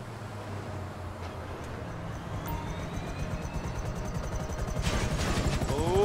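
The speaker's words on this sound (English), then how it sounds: "Can I fly the helicopter?" A helicopter's rotor and engine drone steadily and grow louder, with the chopping rotor beat becoming clearer toward the end, heard up close with no talking.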